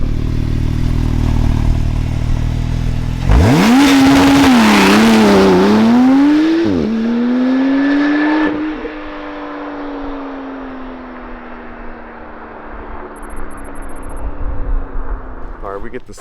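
A 991.2-generation Porsche 911 Turbo S drives past, its engine note surging, dipping and climbing again in loud wavering sweeps before fading into the distance. Road and tire noise accompany it.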